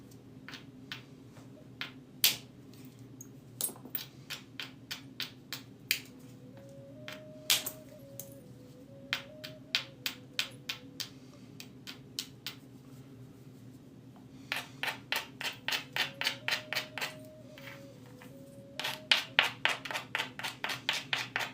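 Flint knapping on a blade core: sharp, crisp clicks and taps of stone striking stone, close and fairly quiet, first scattered and then in quick rhythmic runs, with a faint tonal hum in the background.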